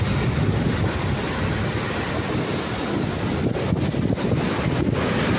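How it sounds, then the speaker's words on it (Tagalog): Strong wind roars steadily against the microphone at a seashore, with breaking waves mixed into the continuous broadband rush and gusts pulsing throughout. "Oh, malakas yung hangin."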